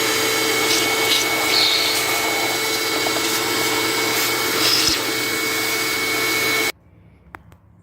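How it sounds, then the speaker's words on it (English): A shop vacuum runs steadily and loudly close by while cleaning out an air filter housing, with a constant whine and roar that cuts off abruptly near the end, followed by a faint click. "I will use shop vac and just take any little particles out."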